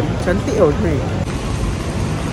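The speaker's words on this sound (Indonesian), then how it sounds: "Hujan dah lah sejuk gila." Steady rain falls outdoors in cold weather, a dense continuous hiss running under someone speaking Malay nearby.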